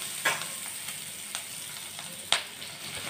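Onions frying in a pan for chilli parwal, a continuous soft sizzle with occasional sharper pops and crackles standing out above the steady hiss.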